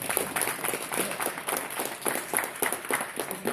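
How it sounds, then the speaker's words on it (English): Small audience at a self-defense choke demonstration giving scattered, uneven clapping, moderately close but fairly quiet, with a faint high ringing tone running underneath. "Give him a big applause."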